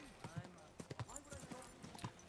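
A horse's hooves clip-clop in steady beats in the video game Kingdom Come: Deliverance II, heard faintly beneath a person talking over it.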